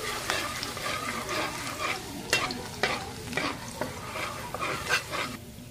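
Garlic frying in hot oil in a pan, a loud sizzle broken by repeated sharp scrapes and clinks from stirring, with no voices.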